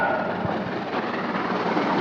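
A steam-hauled train, locomotive 3806, rolls along the rails with a continuous low rumble and faint clatter, heard steadily and fairly close.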